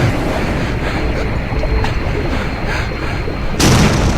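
A plane engine blows up in the survival video game Stranded Deep, heard as a sudden loud boom near the end that cuts through a steady roar of ocean surf and wind.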